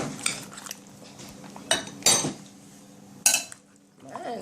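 Utensil clinking and scraping against a bowl or pot while seasonings are mixed into raw pork for stew, a few sharp bursts between quieter stirring, close and fairly soft.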